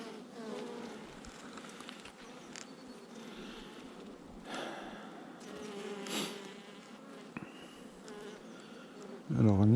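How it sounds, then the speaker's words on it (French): A dense, steady drone of honeybees fills the air around an open hive with a failing queen, the buzzing close and continuous with brief swells as insects pass near, ending in a sudden loud knock. "Il n'y a pas des wagons d'abeilles quand même."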